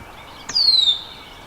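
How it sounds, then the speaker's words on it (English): A red-winged blackbird gives a single sharp, high call beside a canal, starting with a brief click and then a descending whistle. The sound is near and fairly loud against quiet outdoor air. "There's a red-winged blackbird up there fussing at me."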